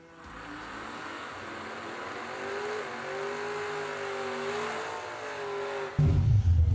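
Drag racing cars at Crossville Dragway during an old school bracket race, with a steady loud engine drone whose pitch climbs and rises through the run, ending in a sudden louder low rumble as the cars come close.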